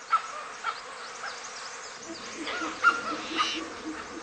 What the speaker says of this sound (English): The post-monsoon flush brings clouds of insects. For some, the flies are a torment.